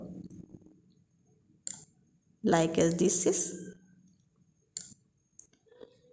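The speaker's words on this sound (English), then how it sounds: "I click these boxes and then drag the mouse" A computer mouse gives a few sharp, isolated clicks while text boxes are moved in a PDF in Adobe Acrobat Pro DC. A voice speaks briefly in the middle.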